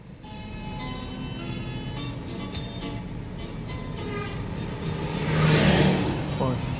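A car's engine revs up and accelerates while overtaking on the busy mountain road between Medan and Berastagi, with a steady drone of traffic and a louder surge near the end, under speech.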